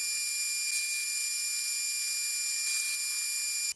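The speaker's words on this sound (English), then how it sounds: "I'll start off with a piece of hot rolled steel in the lathe, and I'll turn down the body and the shank." A metal lathe turns a piece of hot rolled steel down for a large square thread tap, giving a steady, loud high-pitched whine that holds unchanged throughout.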